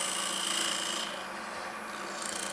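A lathe turning tool makes a finishing cut on a spinning wooden bowl, giving a soft, continuous scraping rasp that eases off partway through.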